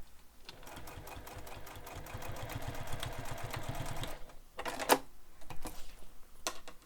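A sewing machine runs a rapid, even burst of stitches while top stitching a handbag, then stops, followed by a few clicks and handling noises close by.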